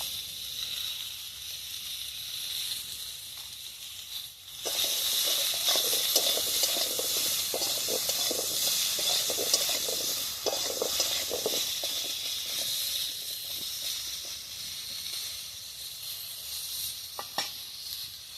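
Pointed gourd and ridge gourd sizzle loudly in a pan for fish curry, a steady bright hiss that jumps up as the vegetables go in and carries on with faint scraping from stirring.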